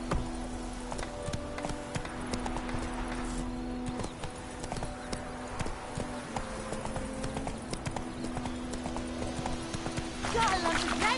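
Hoofbeats of Roach, the horse in The Witcher 3, thud in a steady, fast rhythm throughout, close and fairly loud over a sustained tonal background.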